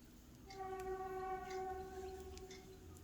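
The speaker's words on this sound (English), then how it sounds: "Those trains are getting honky." A train horn sounds one long, clear, steady blast at a distance, fading slightly toward the end over a low rumble.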